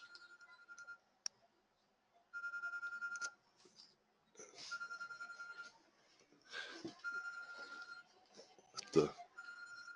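An electronic alarm beeping in repeated bursts of a steady tone separated by pauses, fairly faint and close, with a few clicks and handling noises between the bursts.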